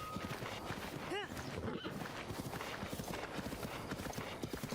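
Horse hooves clip-clop in a steady trot across open ground in Zelda: Breath of the Wild, a continuous rhythmic beat at close range with a brief whinny partway through.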